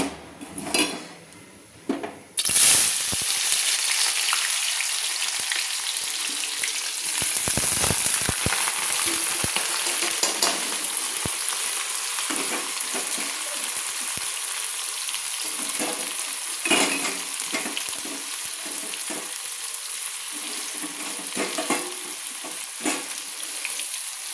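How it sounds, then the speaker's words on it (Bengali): Four chopped, washed onions are dropped into hot mustard oil after a few clinks and burst into a loud, continuous sizzle, with stirring scrapes and utensil knocks throughout and no talking. "পেঁয়াজকে আমি ভালো করে ভেজে নেব, লাল লাল করে ভেজে নেব।"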